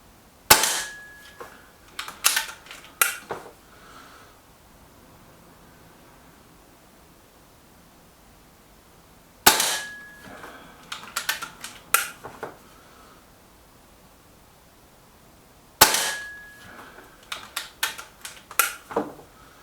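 Reximex Accura air rifle shooting RWS pellets at a paper target: three sharp close shots spaced several seconds apart, each followed by a short ring and a flurry of clicks and clatter from reloading.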